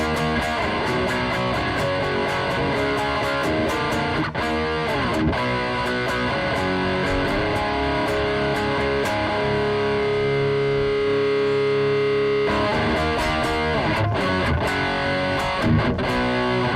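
Electric guitar run through an amp simulator plugin on a Hard Rock Rhythm preset, playing loud, heavily distorted rhythm chords with sharp chugging stops and restarts, no talking.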